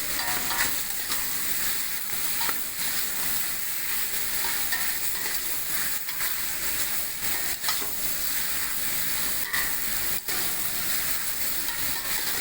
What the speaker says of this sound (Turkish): Harlı ateşte olursa daha çabuk kavrulma işlemi oluyor.